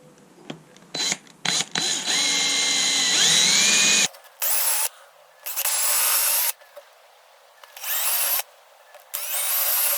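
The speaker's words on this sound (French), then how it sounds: "Ensuite, perçage." A power drill bores a hole in a compass part held over a sacrificial backing board. One loud, close whine runs for several seconds, then several short separate bursts follow with pauses between them. No one talks.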